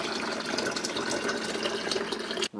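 Rushing water from the Metroid video game, a steady broadband gush like a filling tap that runs without a break and then cuts off abruptly at the end.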